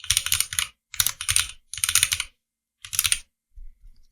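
Typing code on a computer keyboard during a Dart programming lecture, with four close bursts of rapid keystrokes separated by short pauses and a few soft taps at the end. No one speaks.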